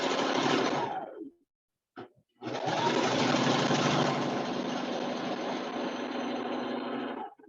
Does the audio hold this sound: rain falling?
no